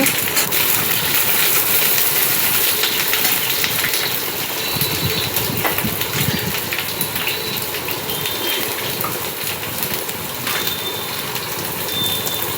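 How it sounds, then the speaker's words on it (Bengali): Potatoes frying in hot oil while being stirred give a loud, dense, unbroken sizzle that holds steady throughout, close up, with no voices. "আলুগুলো ছেড়ে দিলাম গরম তেলে। এবার তেলে একটু নাড়াচাড়া করে নিচ্ছি আলুটাকে।"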